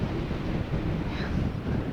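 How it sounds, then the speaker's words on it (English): Heavy, continuous wind gusting up to about 50 mph outdoors at an ancient hiking site, buffeting a microphone with a low rumbling roar that never lets up, with no voices. "Wind is so fierce."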